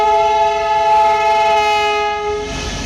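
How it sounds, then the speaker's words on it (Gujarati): A train horn sounds loud and steady at Ahmedabad railway station, a long sustained blast of stacked tones over the rumble of the passing train, fading slightly at the end. "આ ટ્રેન જાય છે।"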